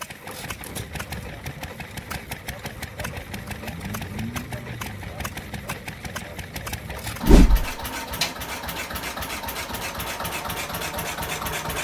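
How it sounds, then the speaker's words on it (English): A vintage single-cylinder four-stroke Lister diesel engine running, with a steady, rapid mechanical knocking beat heard up close and a brief louder thump midway. "Single-cylinder 4-stroke runs on diesel fuel."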